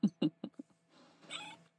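Momo, a pet cat, lets out a few short, close cries in quick succession, then a longer drawn-out meow while having its teeth brushed, fairly soft and clear in a quiet space.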